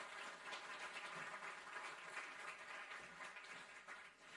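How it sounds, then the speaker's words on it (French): Audience at a talk on energy sobriety clapping for the speakers, a faint, even wash of applause sustained for several seconds, distant and quiet throughout. "Je vous invite à applaudir nos intervenants."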